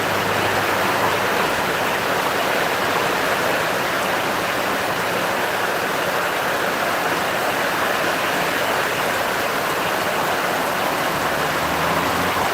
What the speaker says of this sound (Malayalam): നല്ല മഴ ഇങ്ങനെ പെയ്യുമ്പോഴല്ലോ